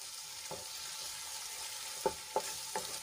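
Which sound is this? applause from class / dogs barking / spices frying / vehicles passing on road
spices frying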